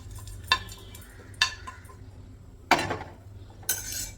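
Dal lentils are dry-roasted in a pan at home, a few separate scrapes and clinks of a utensil against the metal over a faint sizzle, with quiet gaps between strokes.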